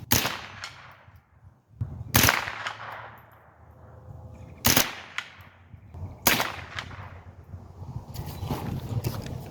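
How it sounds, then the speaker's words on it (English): Four sharp gunshots crack out at irregular intervals outdoors, each loud and decaying quickly, with wind noise buffeting the microphone between shots; the tick of rounds striking a welded steel target is not clearly separable. "You're going to listen for a tick, tick, tick sound when the rounds hit."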